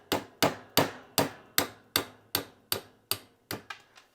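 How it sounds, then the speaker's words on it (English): Nylon-tip hammer tapping a slave pin out of an AR-15 lower receiver: about eleven crisp, evenly spaced taps, close and clear, growing slightly softer toward the end with no talking. "This is where the hammer comes in."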